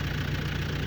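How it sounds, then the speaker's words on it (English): A tractor engine idles steadily nearby, a constant low rumble with a faint knocking texture and no pauses across the whole moment. "Enjoy that I'm out here on a tractor."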